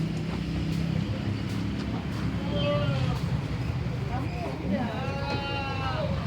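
A large Etawa goat bleats in wavering calls, heard mainly near the middle and end, over steady background noise and people talking.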